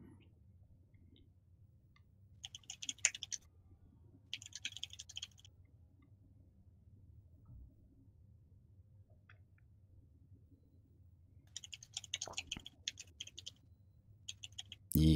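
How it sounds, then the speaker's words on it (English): Computer keyboard typing during a Dawn of War 2 mod gaming session, heard in several short bursts of rapid clicks separated by pauses, over a low background hum, with no talk. "I was typing."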